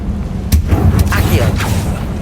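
Confringo spell blasts in Hogwarts Legacy burst out as several sharp booming impacts about half a second apart, loud and close, with a voice heard around them.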